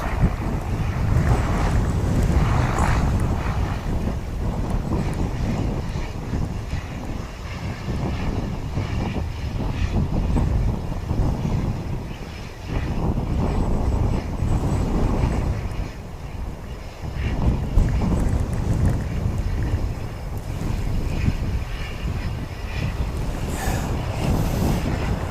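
Qantas airliner QF161 takes off from Wellington Airport. A low, drawn-out engine roar rumbles for a long stretch, heavily mixed with gusting wind buffeting the microphone.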